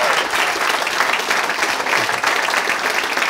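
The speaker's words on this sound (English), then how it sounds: "give him a big round of applause" Applause from a conference audience welcoming a speaker on stage, dense and sustained clapping from a large crowd filling the whole moment at steady volume.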